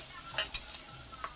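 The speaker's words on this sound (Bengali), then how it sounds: "দেখুন একটু ভালো করে ধুয়ে নেড়ে চেড়ে দিয়ে দিচ্ছি" Food being stirred in a pan, a quiet scraping and sizzling with a few brief louder strokes, alone without talk.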